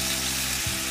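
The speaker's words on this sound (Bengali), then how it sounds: "এগুলো সব ভালো করে ভাজা হয়ে গেছে। এরপরেতে আমি জল দিয়ে দেব।" In a pan of spices fried in oil with Kashmiri chilli, water for a rohu fish curry is poured in, and a short, loud sizzle bursts up.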